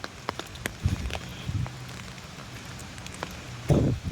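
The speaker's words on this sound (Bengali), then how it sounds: "আমার খুব ভালো লাগে বৃষ্টি" Rain falling outside an apartment in America, a steady soft patter with scattered sharper drips and taps on nearby surfaces, fairly faint and continuous with a brief louder thump near the end.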